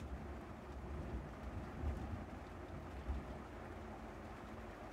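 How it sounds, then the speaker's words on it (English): Steady wash of falling rain, a constant low rumble with occasional heavier gusts, fairly quiet and continuous with no talking. "It's raining now."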